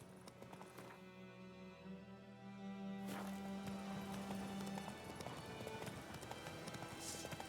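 Horse galloping in The Witcher 3 video game: a steady rhythmic clip-clop of hooves, loud and close, beginning after a brief musical passage and continuing under background score.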